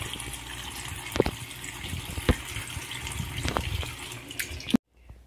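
Water sloshes and drips in a sink-like basin as vegetables are set to soak in lemon water, with a few sharp splashes and knocks before it cuts off abruptly near the end.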